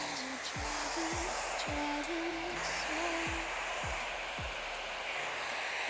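A hair dryer fitted with a diffuser blows in a steady, close, continuous rush of air while drying curly hair, with faint squeaky tones flickering over the constant whoosh.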